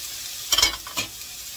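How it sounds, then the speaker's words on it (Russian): Garlic and cherry tomatoes sizzling in a frying pan, with two short bursts of stirring over a quiet background hiss and no talking. "Сейчас мы с вами обжарим чесночок и двигаемся дальше."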